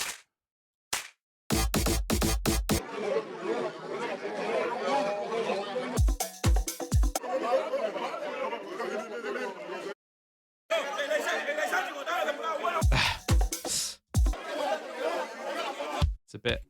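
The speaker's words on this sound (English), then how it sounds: "I want a bit more of a cheery crowd." A cheery crowd chatter sample plays in bursts, a dense murmur of many voices cut off and restarted several times with brief silences and sharp clicks between takes.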